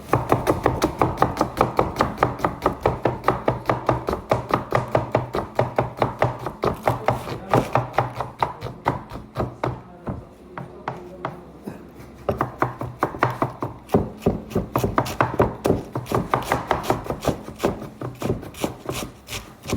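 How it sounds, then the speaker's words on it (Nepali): Onions being chopped with a knife on a wooden board, fast rhythmic close-up strikes that continue steadily, pause briefly midway, then resume, and there is no talking. "अब हुँदैछ प्याज काटाइ"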